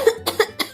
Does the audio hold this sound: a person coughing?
yes